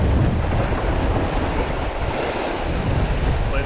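Strong gusty wind of about 30 mph roars and buffets the microphone by the sea in Orkney, with waves washing underneath in a constant loud rush.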